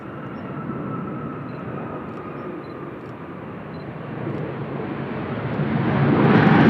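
Airliners at Seoul Incheon Airport, a Korean Air 777 and an Air China 321, roar as a continuous distant jet rumble that slowly grows louder, with no voices.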